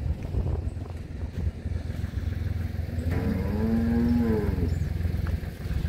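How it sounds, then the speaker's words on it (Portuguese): Dairy cows in a barn on a farm of about 600 milk cows: one long, drawn-out moo rises over a steady low rumble of barn noise and machinery midway through. "Aqui tem muitas vacas, pessoal. É 600 vacas leiteiras."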